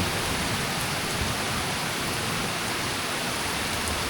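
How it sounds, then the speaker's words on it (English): Heavy rain pours steadily outside, a dense, unbroken hiss that fills the whole moment without any break or voice. "it's pouring pretty good rain out there"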